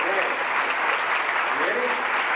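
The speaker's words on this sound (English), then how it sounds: "let's have a big round of applause for her" Dense, steady applause from an audience at a 1990 Baha'i gathering at Greenlake, filling the whole moment without a break.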